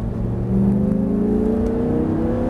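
A car accelerates on a driving-school track, its engine note rising steadily as it pulls away, close and continuous with no talk.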